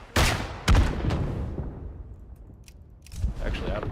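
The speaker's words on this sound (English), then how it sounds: "Can't get away from the artillery sometimes." Artillery fire in the World War I shooter Isonzo lands as two sharp, loud booms in quick succession. Fainter blasts echo in the distance afterward, with scattered shots following.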